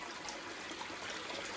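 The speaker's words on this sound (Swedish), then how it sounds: "Ja, då är det så att vattnet börjar cirkulera." A pump circulates water up through the malt pipe in a small brewery, a soft, continuous trickling and gurgling that is faint and steady, with no talking.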